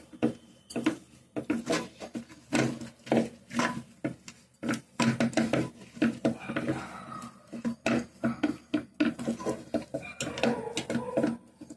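Rice-flour paste being stirred into sugar dough in a metal pot for sweet appalu, with repeated close clatters, scrapes and knocks of the spoon against the pot in an uneven rhythm.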